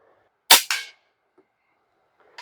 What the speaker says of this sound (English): So we are shooting right at about the perfect speed for pellets, especially for these heavy 34 grains